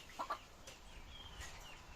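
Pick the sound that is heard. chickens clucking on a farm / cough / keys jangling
chickens clucking on a farm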